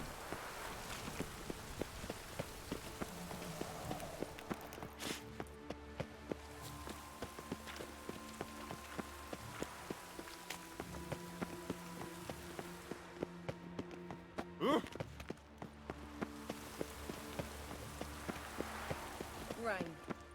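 Steady rain patters across the whole stretch in the video game The Witcher 3: Wild Hunt, alongside game music and ambient effects, with light footstep-like taps mixed in.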